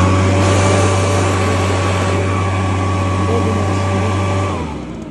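Echo PB760 backpack leaf blower with its two-stroke engine running loud and steady at high revs, a strong droning hum with harmonic whine, easing off slightly near the end.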